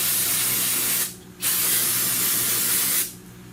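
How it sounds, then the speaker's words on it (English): Two loud hissing blasts of compressed air, each about a second or more long, stop briefly between bursts during work on a Hyundai Elantra's air conditioning system. "So I'm going to go ahead and give it a toot with the air"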